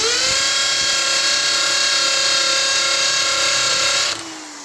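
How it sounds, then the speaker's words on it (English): A steady, loud mechanical whine with a constant high pitch from sanding a 3D-printed engine valve with sandpaper, running continuously before dropping off at the end. "and I start sanding it."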